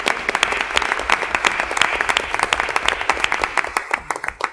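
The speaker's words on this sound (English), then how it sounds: "Let's give them a round of applause." An audience at a board of education meeting gives students a round of applause, with sharp, uneven claps from a modest crowd, close and clear, lasting several seconds.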